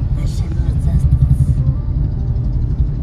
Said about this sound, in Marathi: संध्याकाळी इकडे यायचं म्हणजे ट्रॅफिक, नुसतं ट्रॅफिक जॅम